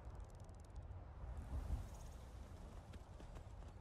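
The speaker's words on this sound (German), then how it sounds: "Oh, bist du ein braves Pferd." Horse hooves clip-clop steadily in the video game Skyrim, a continuous trotting rhythm over a low rumbling game backdrop, with no talk over it.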